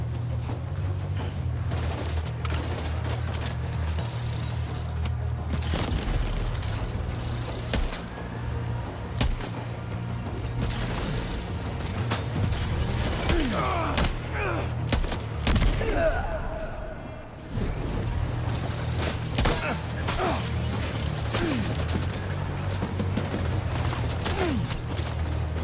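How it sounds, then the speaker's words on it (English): Gunfire in the video game Death Stranding 2 crackles in repeated shots and rapid bursts, mixed with booms and other game effects over a steady low background. "Here I go, shooting again."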